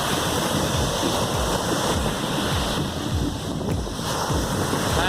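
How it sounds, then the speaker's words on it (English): Loud surf roars continuously with big ocean waves rolling and crashing on shore, mixed with gusty wind buffeting the microphone. "I haven't seen so big waves at a shore."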